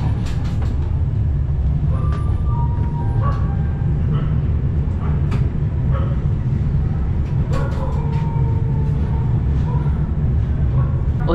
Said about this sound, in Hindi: ये ट्रेन इतनी स्पीड से आई है कि 20 मिनट बिफोर हम इस कानपुर सेंट्रल में आ चुके हैं